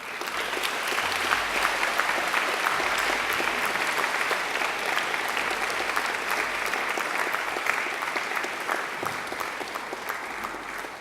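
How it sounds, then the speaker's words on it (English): Sustained, even applause from graduates at a 2013 university graduation ceremony, a thick continuous roar of many hands clapping for their families and friends, steady throughout. "now I invite you to give them a mighty round of applause"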